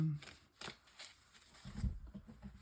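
Oracle cards being shuffled and drawn during a tarot-style reading, with brisk papery riffles and slaps in short bursts, close up and fairly soft, with no talking.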